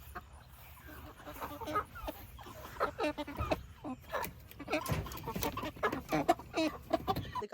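Meat chickens cluck and squawk close by in a hot farmyard while waiting to be butchered, with repeated irregular calls and a few louder bursts, no speech.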